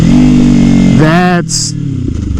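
A Kawasaki Ninja 300 motorcycle engine revs and then drops during a slipper clutch downshift test, its harmonic whine rising briefly before falling back, with a person talking over it.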